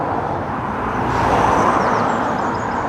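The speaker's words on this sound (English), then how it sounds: "most of the noise from these cars is wheel drag on the road" Steady roar of car tyres rolling on a road near the English coast between Beaulieu and Calshot, a continuous broadband hiss of passing traffic with idling engines, loud and unbroken throughout.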